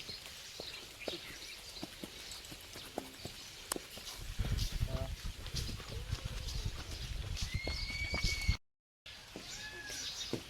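A mare's hooves clop quietly on the ground in an uneven rhythm, with a low rumbling background and faint chirps near the end.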